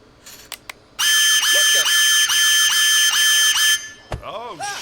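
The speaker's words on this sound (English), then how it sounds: "Fucking smoke detector in the bathroom." A smoke detector alarm in a bathroom in the video game Unheard blares as a loud, steady, shrill pulsing tone for about three seconds, preceded by clicks and followed by a short burst of voices.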